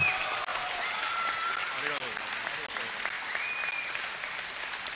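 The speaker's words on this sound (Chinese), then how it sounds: "所以请大家再用掌声鼓励一下" An audience at a Chinese-language stage event for a video game applauds with sustained, even clapping. The clapping keeps up at a steady level for several seconds as a crowd fills the hall.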